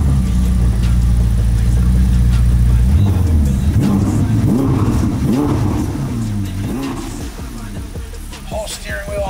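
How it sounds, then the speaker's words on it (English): A hybrid car's engine fires up in gas mode, shifting from a steady low idle into several rising and falling revs, loud and close, with no talk over it. "You have to select gas mode, then you have to start it."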